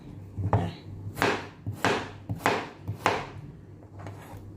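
A knife chops through taro on a board for a sweet coconut dessert, giving about five distinct, close chops with short gaps and soft rubbing between strokes.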